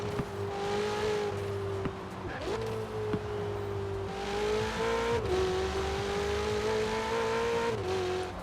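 A Ferrari 488 Pista in Forza Horizon 4 revs hard, its engine note climbing steadily with quick dips at gear changes, loud and close throughout.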